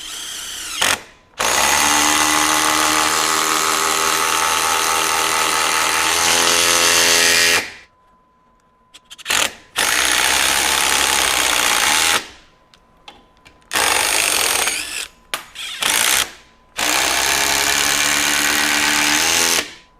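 DeWalt DCF845 brushless impact driver on a 1/2-inch socket driving lag screws into wood in its high-power speed 3: several long, loud, hammering bursts of several seconds each, separated by short pauses and ending with quick stop-start pulses.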